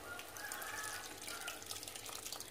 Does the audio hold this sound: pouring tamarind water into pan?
yes